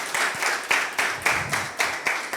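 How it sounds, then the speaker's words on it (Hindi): Church congregation applauding during a Pentecostal-style sermon, a steady run of rhythmic clapping with regular accents about every quarter second, fairly loud and close, with no talk over it. "आप तालियां बजा सकते हैं खुदा के जलाल के लिए."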